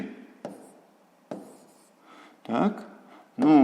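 Chalk or marker strokes on a board as answer values are written out, brief scratchy marks and taps separated by pauses, with a voice speaking intermittently over them.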